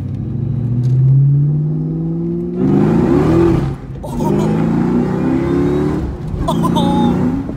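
A Cobra's engine revs hard through several gear shifts, each pull rising in pitch before a brief dip at the shift, loud and close, with people talking over it.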